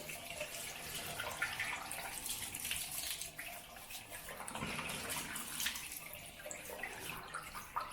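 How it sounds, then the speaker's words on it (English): Water runs steadily from a tap into a bathroom sink to wet the face before a wet shave with an Edwin Jagger DE89 safety razor, a continuous close splashing flow with no talking. "So wet the face first."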